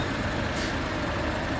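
A JAF roadside assistance truck pulling up beside a broken-down Suzuki Jimny, a steady broadband vehicle rumble with a brief hiss like an air brake partway through, no talking.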